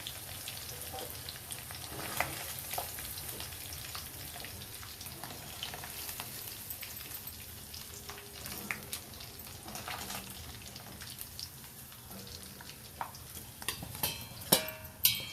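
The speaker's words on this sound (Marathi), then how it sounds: "पनीर तळायचं. ते तळून झाले" Paneer cubes frying in hot oil, a steady soft sizzle with scattered crackles and occasional sharper pops, moderately near and unbroken by talk.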